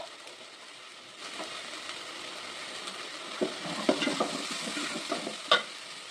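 Ginger garlic paste fries in hot oil for a spicy crab kuzhambu, giving a steady, moderate sizzle. Irregular spoon scrapes and stirring knocks grow busier toward the end.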